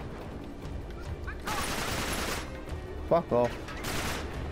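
Gunfire and bullet impacts in the video game Uncharted 3, coming in bursts of loud noisy shots, with a voice cursing partway through.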